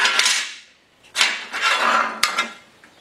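Sheet metal for a Willys CJ3B cowl support is bent on a metal brake, making metallic clanks and scraping clatter along with a few sharp knocks. The sound is close and loud, with no talking.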